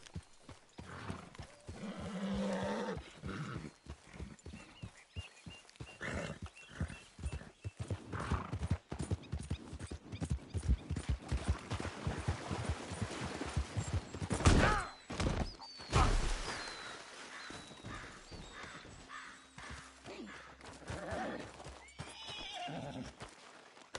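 Horse hooves clip-clop steadily for a long stretch in Red Dead Redemption II as the rider urges a mare on, with a neigh rising midway and brief voices of characters near the end.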